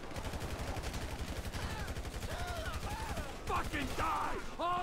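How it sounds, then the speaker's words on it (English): Gunfire in the video game GTA V crackles in rapid, repeated bursts like automatic weapons, fairly quiet and continuous, with sirens or whooping tones rising over it toward the end. "Didn't you hear the gunshots?"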